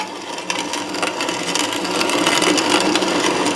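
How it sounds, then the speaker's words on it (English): A grain mill grinds pinto beans as they feed through the auger into the grinding plate, a continuous raspy, crunchy grinding that swells slightly louder toward the end, with no talking. "I think the first beans are starting to make it through the auger and into the grinding plate"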